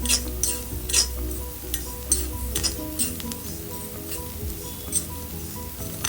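Idli podi ingredients, including garlic, curry leaves and sesame, are dry-roasted with salt in a pan without oil, producing a faint rustle under repeated sharp scrapes and clinks of a spoon against metal.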